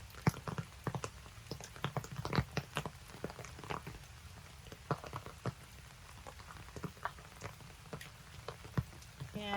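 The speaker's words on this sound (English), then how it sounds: "And even my potted plants here, I'm sure are very glad to get this rain." Rain falls on a vegetable garden with potted plants and beds, a soft steady patter with scattered close, sharp drops and no voices.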